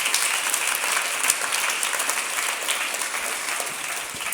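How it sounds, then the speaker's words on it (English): Steady, dense audience applause at a live-streamed sports year-in-review event, a continuous wash of many hands clapping throughout without a break. "Let's give that a huge round of applause."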